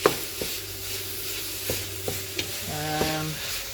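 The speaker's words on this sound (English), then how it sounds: "We'll get a small browning on the meat" Ground beef browning in a pan for a bolognese sauce: a steady sizzle with a few distinct stirring knocks and scrapes spaced through the clip, close and moderately loud, with no talking.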